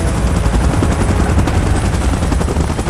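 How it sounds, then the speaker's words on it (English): A helicopter in the PUBG video game thrums with a loud, continuous rotor and engine roar that holds steady throughout, with no voices. "Chopper in position."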